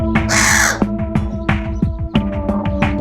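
A channel-billed cuckoo that can no longer fly, in a vet clinic, gives a series of loud, harsh, raucous calls in quick succession, close and without talk.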